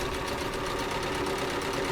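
A sewing machine stitching quilt binding with a stitch-in-the-ditch foot, running as a steady, close mechanical whir with no pauses.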